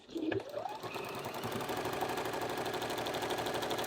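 A sewing machine stitches the mitered corner seam of a self-binding cloth napkin, starting with a brief whir and then running in a steady, even stream of fast needle strokes, close and clear.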